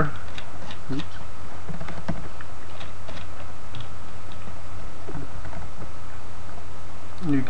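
Computer keyboard keys and mouse scroll-wheel clicks tap out in small irregular bursts over a steady low hum, close and fairly quiet, while editing a track in ddrem.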